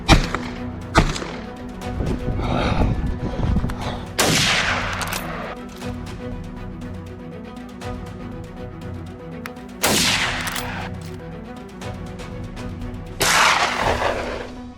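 Gunshots ring out during a wild boar hunt outdoors, several sharp, loud cracks spaced seconds apart, each with a rolling echo trailing off.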